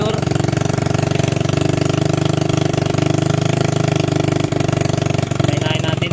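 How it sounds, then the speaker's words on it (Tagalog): A motorcycle engine idling loudly up close, its exhaust giving a rapid, rough, rattling putter that holds steady throughout. "Okay na siya, medyo maingay lang yung tambutso niya."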